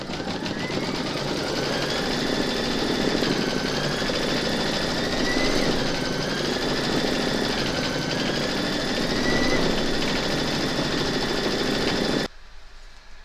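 A sewing machine stitches round four of a calla lily floral coaster motif, running as a steady, loud, continuous whir with slight speed wobbles for about twelve seconds before stopping abruptly.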